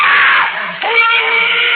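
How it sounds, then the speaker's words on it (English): Loud, sustained screaming in a 1951 Dimension X radio drama of The Veldt, two long cries divided by a brief break, shrill and close with no spoken words. "Those screams. They sounded familiar."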